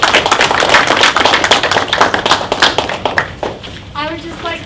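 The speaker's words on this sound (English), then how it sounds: "I would just like to give one more round of applause to the Women's Leadership Project and Dr. Ku" An audience at a talk bursts into a dense round of applause that tapers off after about three seconds, followed by a speaking voice.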